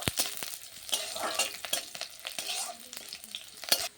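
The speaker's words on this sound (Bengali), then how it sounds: "কাঁচা লঙ্কাগুলো আমি দিয়ে দিচ্ছি, দিয়ে ভালো করে আবারও একটু নাড়িয়ে নেব।" Green chillies frying with onions in a pan, with a steady close sizzle and repeated scraping stirs of a spoon through the whole stretch, no voices.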